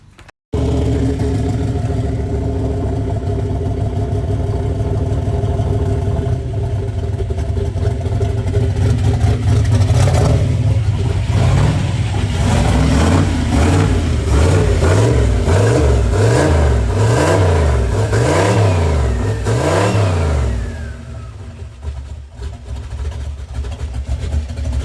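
A turbocharged SN95 Mustang, built to around 600 hp, cranks and fires, then idles loud and close before a run of sharp revs that rise and fall in quick pulses and ease back down.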